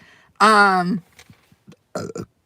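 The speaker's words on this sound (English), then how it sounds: "I just burped in y'all's ear" A single long, loud, voiced belch from a person chatting in a parked pop-up car, followed by a few faint mouth noises and short bursts of sound.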